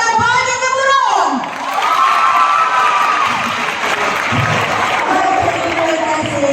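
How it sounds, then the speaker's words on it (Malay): Form six secondary school students at a school assembly cheering and clapping loudly, a thunderous crowd of shouting young voices with whoops and rising yells over continuous applause. "Saya nak dengar daripada tingkatan 6 tepukan yang paling gemuruh."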